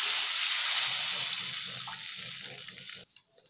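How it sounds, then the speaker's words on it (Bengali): Water is poured into frying masala for Bengali tilapia fish curry, giving a loud hiss and sizzle that gradually fades over a few seconds, close up and without voices. "এখন জলটা দিয়ে দিচ্ছি"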